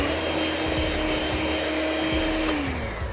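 An egg is being mixed into soy cookie dough. A continuous close motor whir runs throughout, with a pitch that dips slightly near the end.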